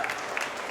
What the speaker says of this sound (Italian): Un applauso grande